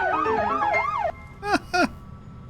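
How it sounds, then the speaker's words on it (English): Police siren in Cyberpunk 2077 at a security checkpoint, a close, loud wailing tone rising and falling for about a second, then two short sharp whoops after a brief pause. "Here comes that siren."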